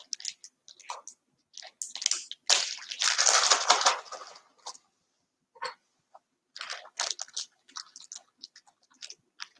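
Close, crisp crunching and chewing while eating homemade maple-flavored ice cream hardened with salt and ice, with a louder burst of crunching midway and scattered short bites and clicks after.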